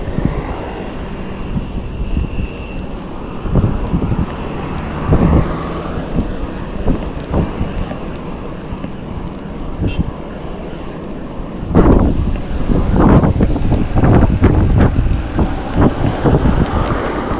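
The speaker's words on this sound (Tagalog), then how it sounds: "lakas ng hangin guys, against the wind" Strong headwind buffets the microphone while cycling on a short loop, a steady broadband rumble with heavier gusts near the end and no speech.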